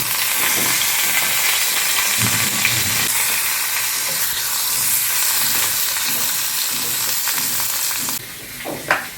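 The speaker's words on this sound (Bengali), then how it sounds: "মাছটা ভাজা হচ্ছে" Fish fries in a pan with a loud, continuous hiss and crackle that runs without a break, then drops off near the end as a utensil clatters briefly.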